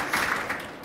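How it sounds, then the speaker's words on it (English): A seated audience at an art conversation event gives a brief, dense thank-you round of applause, steady clapping from a crowd lasting under a second without any talk. "I wanted to just give you a quick thank you clap."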